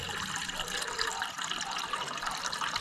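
Steady rush of fresh water pouring into a container, continuous and moderately loud, with no pauses and no voices.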